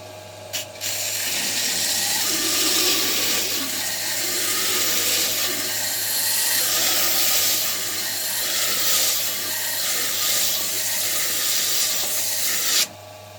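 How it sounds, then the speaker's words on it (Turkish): A belt sander converted from a band saw runs continuously, a steady broadband grinding hiss with a low hum beneath, holding even for the whole stretch with no voices. "Zımparanın yüzeyi çalıştırıyoruz."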